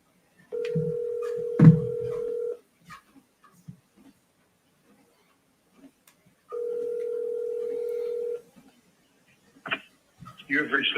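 A telephone dial tone during a commercial real estate cold call sounds as two long steady tones, each about two seconds, separated by a quiet gap. A loud thump and brief talk come with the first tone, and a voice speaks near the end.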